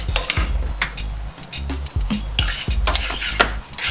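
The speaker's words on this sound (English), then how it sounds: "Stir it around, let it sit for like another 5 minutes." Tomato paste being stirred into a pan for a Spanish tortilla: a spoon scrapes and knocks against the pan in an irregular rhythm, with soft clinks, close and moderately loud.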